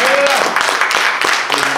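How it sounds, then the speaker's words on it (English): A church congregation at a Youth Day worship service claps hands in praise, a dense ongoing patter of many hands mixed with voices and shouts, fairly loud and close. "Come on, give God a hand clap of praise."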